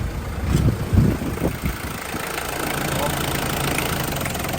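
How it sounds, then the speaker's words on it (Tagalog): A misfiring car engine idles with an uneven, knocking rhythm, rough thumps loud at first and then settling into a steady low chug, while someone talks nearby. "Ngayon, titingnan natin makina kung anong andar niya."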